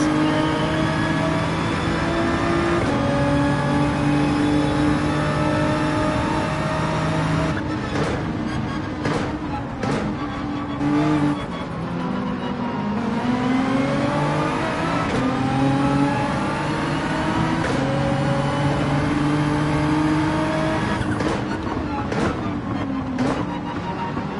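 A Ferrari 458 engine roars alongside in a Gran Turismo 7 race on Dragon Trail, loud and continuous, with pitch sweeping up and down through gear shifts and revs over about twenty-four seconds, no talking.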